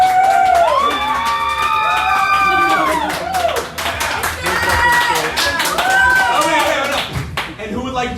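A live crowd at a tabletop role-playing one-shot in a tavern claps in a show-of-applause vote, a dense sustained burst lasting several seconds, heard up close. Over it a voice rises and falls in exclamation, sounding sung.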